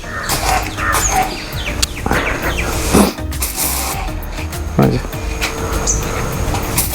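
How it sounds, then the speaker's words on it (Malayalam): A cheap high-pressure car washer pump, drawing water from a tub, is switched on and gives a steady mechanical whirr with a couple of clunks. Someone talks over it. "അതിൽ നിന്ന് നമ്മൾ വെള്ളം വലിച്ചെടുത്ത് പമ്പ് ചെയ്യാനായിട്ട് പോവുകയാണ് അതിനുശേഷം ഓണാക്കണം ഓണാണ്"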